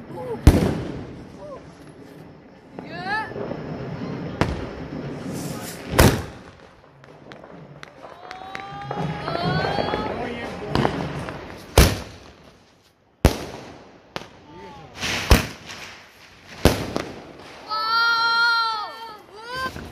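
Sharp firecracker bangs burst irregularly during Diwali, some close and loud, amid crowd noise, voices and a child's cries.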